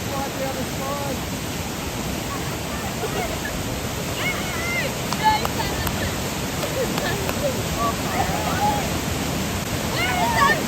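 River rapids at Josephine Falls rush in a constant, broad roar of churning water, with people talking over the noise.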